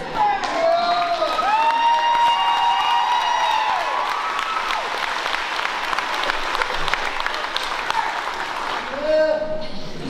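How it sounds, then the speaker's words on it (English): An audience applauds at a high school graduation ceremony for the Class of 2022, a steady, dense wash of clapping with cheers and scattered voices over it throughout. "he was going to get the loudest clap and applause"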